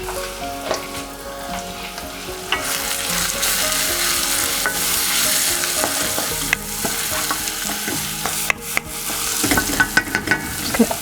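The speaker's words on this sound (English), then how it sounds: "So just help fry it a little further." Keema muttar, a curry of minced meat and peas, fries in a pan with a steady crackling sizzle while a spoon stirs it, scraping and tapping now and then, close up.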